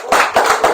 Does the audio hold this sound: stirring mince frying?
no